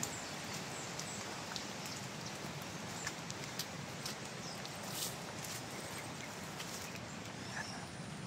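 Steady rain patters on a surface with scattered drops, a soft continuous hiss at moderate distance, no voices.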